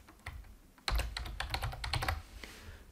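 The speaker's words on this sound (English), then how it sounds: "And now here I'm going to type projects." Typing on a computer keyboard while entering a list name, a faint start followed by a dense run of close, crisp key clicks that fades near the end.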